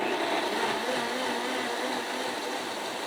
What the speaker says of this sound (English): We are going to go ahead and put the lid on and blend it up.